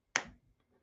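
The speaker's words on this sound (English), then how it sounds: "When I snap my fingers, you will forget that you were ever gay." A single sharp finger snap rings out close and clear in a quiet room at a recovery meeting, followed by a brief fading tail and near silence.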